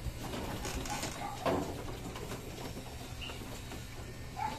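Pigeons coo softly in a loft while a keeper handles one of the birds, low murmuring calls mixed with faint rustling and scattered background noise, fairly quiet overall.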